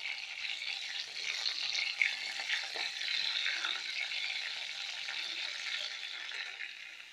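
Pointed gourd (parwal) frying in oil in a pan gives off a faint, steady hissing sizzle that carries on evenly throughout, with no voices.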